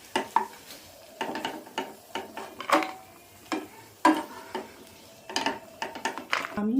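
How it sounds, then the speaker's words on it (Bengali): Dry fruits frying lightly in ghee in a pan while a spoon stirs them, giving close, irregular scraping and clinking strokes over a soft sizzle, with no voices. "আমি ড্রাই ফ্রুটগুলো একটু ভেজে নেব। হালকা করে ভাজতে হবে, বেশি ভাজার দরকার নেই।"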